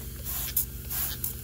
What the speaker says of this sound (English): And I'm just spraying this with soapy water